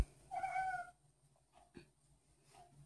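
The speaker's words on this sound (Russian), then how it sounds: "Да, и кот со мной согласен." A house cat gives a single clear meow near the start, followed by faint rustling and small movement noises in a quiet kitchen.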